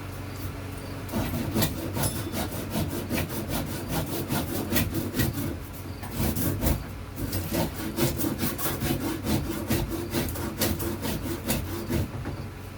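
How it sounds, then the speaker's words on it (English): Close, rhythmic strokes of a wood rasp scrape across wood for a cigar box guitar, a steady back-and-forth rubbing repeated many times with no speech. "grab your handy wood rasp here. And do like this. It's supposed to come along like that."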